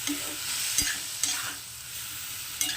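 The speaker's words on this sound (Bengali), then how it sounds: "পালং শাকটাকে দিয়ে দিয়েছি এবার রসুনের সঙ্গে সব ভালো করে মিশিয়ে নেবো" Spinach is stirred into garlic in a hot pan, with a steady sizzle of frying throughout and a few sharp scrapes and clicks of the utensil against the pan.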